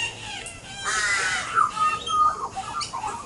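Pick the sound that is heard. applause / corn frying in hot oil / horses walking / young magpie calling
young magpie calling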